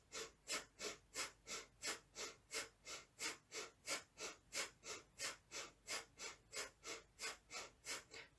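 Rapid rhythmic breathing in a live group fitness class: about twenty quick, even, forceful breaths pumped out in a steady pulse, close and clear, with no talking.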